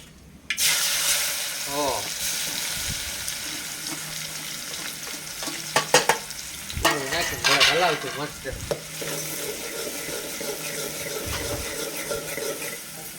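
Chopped onion drops into hot oil in a pan on a wood-fired stove, setting off a sudden loud sizzle that keeps crackling steadily, with bursts of stirring and clatter midway.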